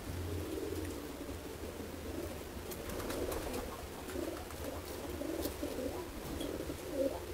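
Homing pigeon cooing softly while being held, low repeated coos close by in a quiet setting.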